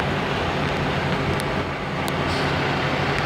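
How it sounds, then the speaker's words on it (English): Loud truck passing by outside, a dense steady roar of engine and road noise that fills the whole stretch without pause. "loud truck. Man, what are you so loud for?"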